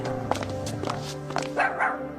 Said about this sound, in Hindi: अब तो टॉमी ओम को देखते ही भौंकने लगता है